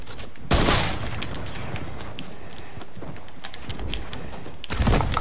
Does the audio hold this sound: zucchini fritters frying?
no